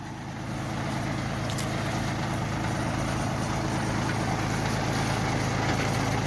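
A small tractor's engine drives a PTO shaft spinning a drip-irrigation hose reel, running steadily with a constant low drone and mechanical whir, loud and close, holding an even speed the whole time.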